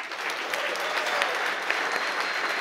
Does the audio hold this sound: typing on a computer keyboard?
no